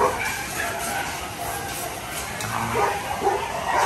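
Dogs at a breeding farm, including a pair of Alaskan Malamutes, yip and whimper in short bursts close by amid steady background noise.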